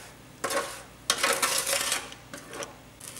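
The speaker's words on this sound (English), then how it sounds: "you can hear it a little bit. It's starting to sizzle." Sherry hits a hot pan on the stove while chicken stock is being started, deglazing caramelized bits. It hisses and sizzles in several separate close bursts with short quieter gaps between them.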